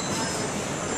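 A train with rail noise and a steady loud rumble and hiss from the wheels and carriages, continuous and close for a brief moment.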